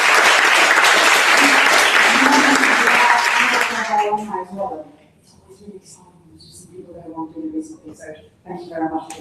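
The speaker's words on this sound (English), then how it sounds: "I think a round of applause for Annabelle for hosting" An audience at a travel tech careers panel event claps loudly and continuously, the dense applause fading out after about four seconds, followed by scattered talking.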